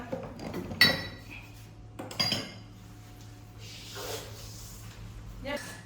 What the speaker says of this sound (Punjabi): ਆਪਾਂ ਪਹਿਲਾਂ ਕੱਢ ਲਈਏ ਭਾਂਡੇ ਇਹ ਵੀ ਬਚਾ ਬਚਾ ਕੇ ਕੱਢਣੇ ਪੈਣੇ ਕੱਚ ਦੇ ਗਲਾਸ ਹਨ